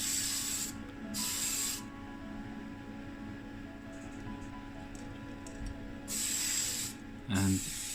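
TS7 Racing White spray paint hisses from an aerosol can onto a model of a 1959 Plymouth Sports Suburban, in three or four short close bursts separated by quiet pauses, followed by a brief rattle at the end.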